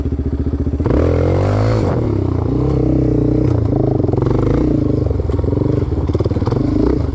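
Yamaha Raptor 250 quad running off-road, its engine loud and steady throughout with a rising rev near the start and some clatter from the terrain.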